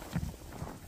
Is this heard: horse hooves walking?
yes